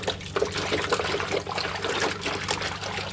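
Water splashes and trickles as pangas fish are washed with lemon and hot water, an irregular close sloshing and pouring with bursts of dribbling over a low background hum.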